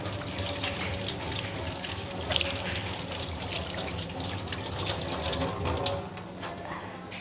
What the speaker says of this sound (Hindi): अब आप इसको सादे पानी से धो लें। कुछ धो के दिखाती हूँ।